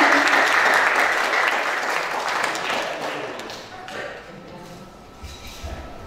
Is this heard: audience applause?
yes